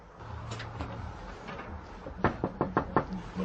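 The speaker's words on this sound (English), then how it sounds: "But when we come knocking," Five quick knocks rap on a house door, fairly close and distinct, after a stretch of quiet indoor room noise with faint background rumble.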